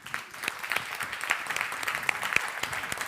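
Audience applause at a conference, a dense steady patter of many hands clapping with sharp individual claps standing out, sustained evenly and fairly close throughout.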